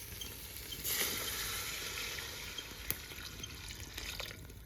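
Water is poured into a pot of chicken biryani on the stove, a soft, continuous splashing pour lasting a few seconds with one small clink partway through; fairly faint and heard alone.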